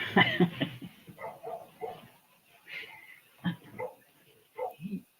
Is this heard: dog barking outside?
yes